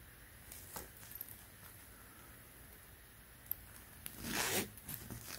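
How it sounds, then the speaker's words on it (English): A YKK zipper on a Supreme zip-up sweatshirt: faint fabric rustles and small ticks give way to one quick, close zipping burst near the end. "Got the YKK zipper."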